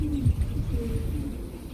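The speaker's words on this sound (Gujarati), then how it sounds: "અહીંયા કબૂતરા સરસ મજાના બેઠા છે" Soft, low cooing from pigeons nearby, a couple of brief throaty calls over a quiet, muffled background.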